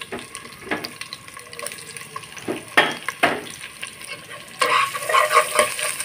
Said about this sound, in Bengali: দিয়ে নেড়ে চেড়ে ভালোভাবে মিশিয়ে নেব